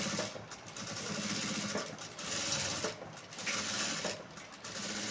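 A sewing machine runs steadily, stitching folded fabric for a blouse patti piece, its mechanical whir continuous and close with faint rhythmic clicks and no talking.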